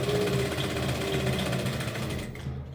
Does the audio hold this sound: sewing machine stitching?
yes